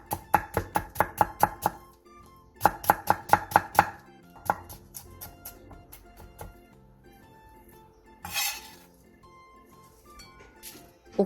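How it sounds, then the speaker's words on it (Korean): A kitchen knife julienning carrot into thin strips on a cutting board for an eggplant side dish: two quick bursts of rapid, crisp chops, then slower scattered cuts and a brief rustle of handled pieces, close and clear with no talking. "당근 3분의 1개도 양파와 비슷한 크기로 얇게 채 썰어주세요."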